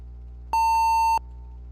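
A computer emits a single steady electronic beep, loud and pure-toned, lasting about half a second while Windows is being installed, with quiet background hum before and after.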